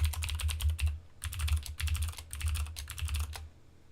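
Someone types a password on a computer keyboard in several quick bursts of close, crisp keystrokes separated by short pauses.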